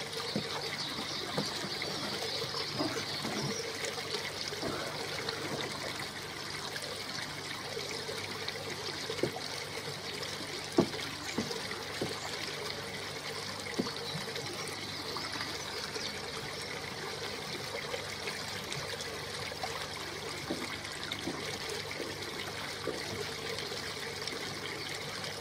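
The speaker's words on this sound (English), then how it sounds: "But all this water's gone into this box," Water flows steadily down through a koi pond filter box packed with new filter media, a continuous close trickling stream that runs unbroken throughout, with a couple of faint knocks and no talking.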